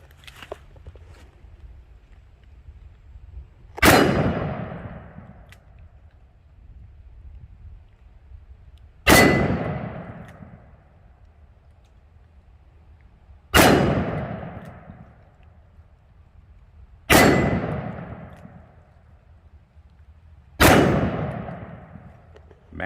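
Five loud .44 Magnum gunshots from a Smith & Wesson Model 69 firing Hornady XTP 240 grain rounds at a steel plate, each a sharp crack with a ringing decaying tail, spaced several seconds apart with quiet between.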